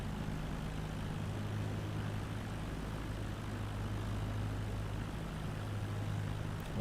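A light aircraft engine droning steadily in Microsoft Flight Simulator 2020, a constant propeller hum with a low tonal note, unbroken and without speech.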